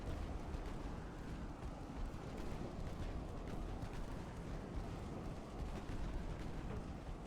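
Enemy warship guns firing in Ultimate Admiral Dreadnoughts, a dense, rumbling barrage of distant booms blending into a continuous low roar with faint broadband bursts.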